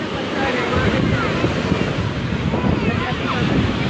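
Ocean waves surge at Manora beach in the early evening as the water grows rough, a loud, steady wash of surf mixed with heavy wind buffeting the microphone, with no pause.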